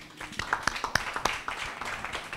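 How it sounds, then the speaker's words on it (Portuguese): An audience applauds Vanessa with brief, scattered clapping in a room, a dozen or so moderately loud claps at an uneven rhythm with no talk over them. "Um aplauso para a Vanessinha."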